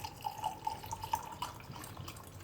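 Chilled water trickles and drips steadily into a glass of raw mango panha, a soft continuous pour with small splashy drips, fairly quiet with low background hum.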